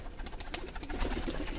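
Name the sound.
pigeons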